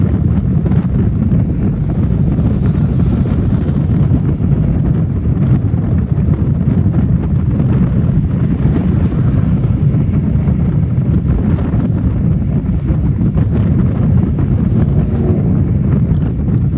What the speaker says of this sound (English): It's probably awfully windy. Probably can't even make out what I'm saying.